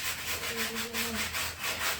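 A child scrubbing with a brush makes a steady, close rasping rub that pulses in quick repeated strokes, with a faint tonal squeak partway through.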